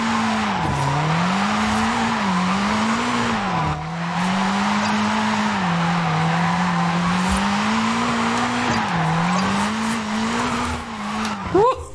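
Wide-body Toyota Supra drifting in Forza Horizon 5, its engine holding a steady wavering drone while tires squeal continuously through long slides, with a brief sharp squeal at the end.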